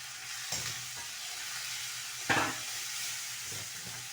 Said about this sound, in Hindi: इस मसाले को अच्छी तरह भून के